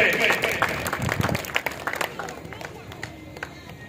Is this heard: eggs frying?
no